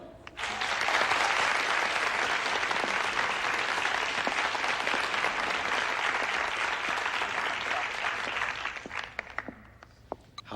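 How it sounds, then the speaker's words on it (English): Warm, sustained applause from a game show audience welcoming a contestant: a dense, even wash of many hands clapping, loud and steady for several seconds before thinning out at the end. "won't you please give a warm round of applause for Helen"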